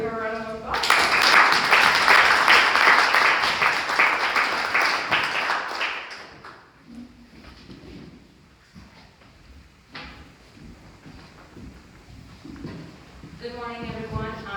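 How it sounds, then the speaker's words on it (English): An audience at a 1 Million Cups startup presentation in Ann Arbor applauds in a loud, dense round of clapping that lasts about five seconds, then fades into quiet room tone, with a second burst of clapping starting at the end. "Give her a round of applause."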